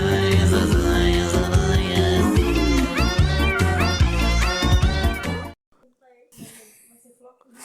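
A cat meows repeatedly over busy music with human voices, its calls rising and falling, before everything cuts to near silence with faint sounds.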